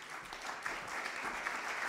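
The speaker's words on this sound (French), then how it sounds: "On peut l'applaudir, Eric." An audience claps steadily for a couple of seconds, a dense, even crackle of applause in an indoor hall.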